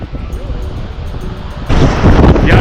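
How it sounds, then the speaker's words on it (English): Steady wind rumble buffets the microphone on a cold, icy trail near a waterfall in Iceland, swelling noticeably louder in the second half, with a low roaring broadband noise throughout. "It's windy and cold here."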